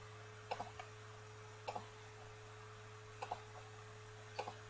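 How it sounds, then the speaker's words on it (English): Quiet computer mouse clicks, mostly in quick pairs, repeat about every second and a half over a low steady hum during Photoshop editing. "I'm just gonna keep clicking around the perimeter here."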